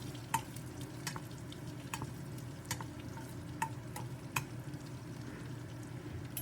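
Garlic chutney ingredients with a little tamarind fry in oil, a low, soft sizzle running underneath sharp, regularly spaced clicks and taps of a spoon stirring against the pan, close up with no talking.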